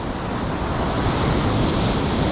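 Strong sea waves break on the shore at Salalah, Oman, making a dense, loud, continuous rush of surf mixed with wind noise and no talking.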